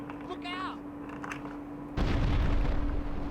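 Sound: explosion in a video game

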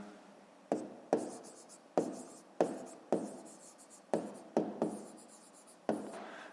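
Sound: pen writing on paper

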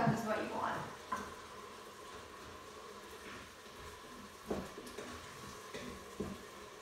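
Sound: wine sizzling and reducing in Instant Pot with short ribs

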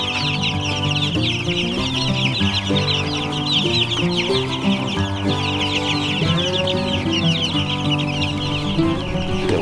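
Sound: chicks clucking

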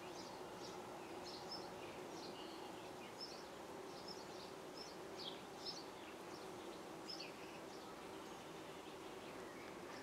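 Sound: bees humming in a tree

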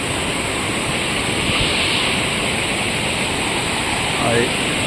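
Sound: rushing floodwater

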